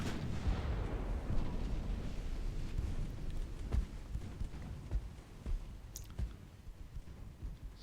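Naval artillery fire from warships in Ultimate Admiral: Dreadnoughts, heard as distant low booms and thuds spaced irregularly over a rumbling sea-and-engine bed, fairly faint overall.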